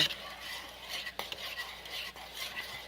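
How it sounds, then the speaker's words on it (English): Oatmeal with berry granola, honey and milk being stirred in a pot, a soft continuous scraping and swishing with a couple of sharper spoon taps, close and fairly quiet, with no talking. "Stirred here for the second time, I think it is now."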